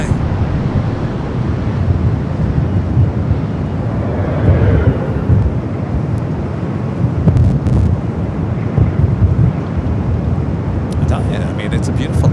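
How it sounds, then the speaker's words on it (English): Gusty wind buffets the microphone at Los Angeles airport, a loud, continuous roar with rising surges, while someone talks throughout and a plane drones faintly in the background. "The wind just blowing everything around here today."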